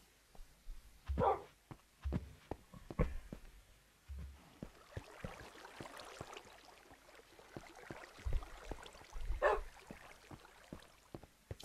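A dog in a video game barks and yips in a few short, sharp bursts spread across a quiet, faint background.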